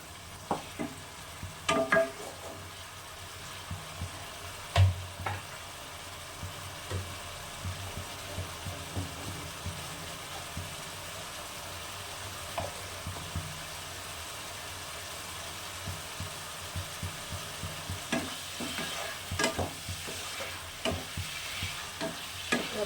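A spice masala for rohu fish curry sautés in a pan with a low, continuous sizzle under occasional soft scrapes and knocks of a stirring spoon, fairly faint and steady throughout.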